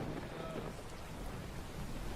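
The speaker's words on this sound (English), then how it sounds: "my neurons activate every time I hear lightning" Steady rain with rumbling thunder from a lightning storm video played back, a dense continuous wash of noise with low rolling rumble underneath, filling the whole stretch with no gaps.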